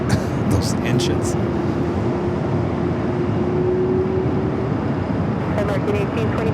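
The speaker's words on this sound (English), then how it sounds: "But you can hear those engines." Airplane engines at Los Angeles LAX airport produce a steady broadband roar with a faint sustained whine. Voices are heard briefly over the engine noise.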